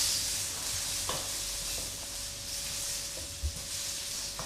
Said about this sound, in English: And you're going to stir it around.